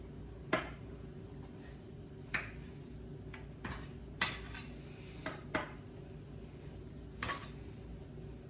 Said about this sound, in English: can use a knife or a bench scraper like this